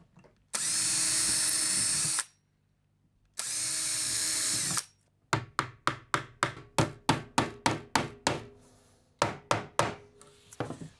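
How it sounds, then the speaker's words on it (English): A power drill pre-drilling wood for a treasure chest base runs in two steady whirring bursts, then a string of rapid tapping or hammering knocks on the timber follows, close and fairly loud. "a little bit of pre-drill."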